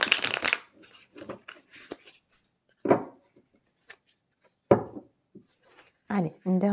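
Tarot cards shuffled and handled up close, with scattered papery rustles and riffles in short bursts, and a voice talking briefly between them.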